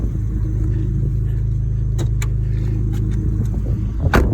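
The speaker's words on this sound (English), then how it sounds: "Let me just open the bonnet." An Abarth car sits idling with a deep, steady engine rumble while a few sharp clicks and knocks from its bonnet being released and opened sound close by over the hum.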